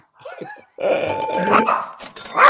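A dog barks close by in a few sharp, loud bursts, followed by a brighter ringing tone at the end, with no talk over it.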